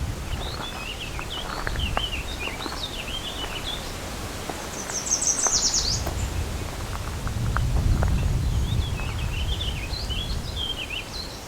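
An Eastern Warbling-Vireo sings repeated warbling phrases at moderate distance, with another bird's brief bright song and some rustling and footstep-like movement in the background.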